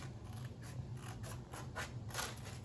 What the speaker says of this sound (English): I'm just going to, you know, try to cut neatly.